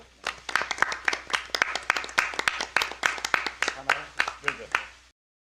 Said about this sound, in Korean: 박수를 한번 하고